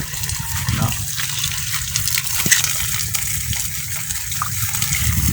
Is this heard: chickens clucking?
no